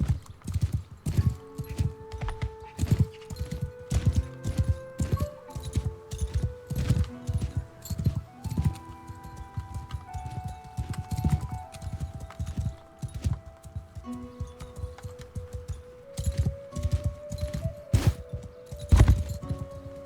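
Horse hooves clip-clop in a steady, rhythmic stream in Mount and Blade 2: Bannerlord, loud and close for the whole stretch, with occasional snorts and no talk.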